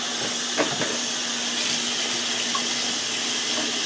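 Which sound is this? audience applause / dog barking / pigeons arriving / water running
water running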